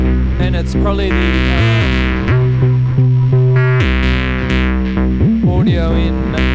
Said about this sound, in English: So it's going through a distortion there.